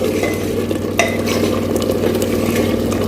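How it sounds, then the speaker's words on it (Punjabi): A tadka of tempering spices crackles hard in a pan for a potato and pea curry, a close, loud, continuous sizzle with a sharp clink of a utensil partway through and a faint steady hum beneath. "ਤੜਕਾ ਆਪਣਾ ਬਹੁਤ ਹੀ ਬਦੋ ਬਦੀ ਰਿਜਣ ਲੱਗਾ ਹੋਇਆ"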